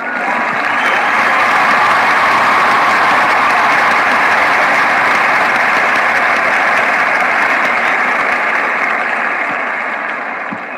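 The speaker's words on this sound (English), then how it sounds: "let me give you a much celebrated clap" A sustained wash of clapping runs loud and steady for about ten seconds with no breaks, close and even, fading only slightly at the very end.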